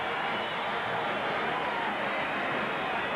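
A basketball arena crowd roars during a timeout at a 1986 college game between Wichita State and Tulsa, a dense, steady wash of cheering and yelling that fills the whole clip without any break.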